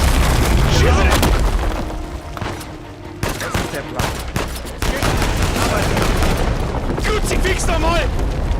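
Heavy gunfire and booming explosions from the Uncharted 4 video game, with rapid bursts of shots and rumbling blasts packed densely together, loud and continuous, while a player talks excitedly over the combat.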